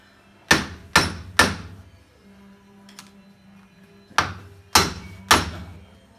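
Sharp hammer blows on metal on a VW transmission, three quick strikes, a short pause with faint clinks, then three more evenly spaced hits, each ringing briefly.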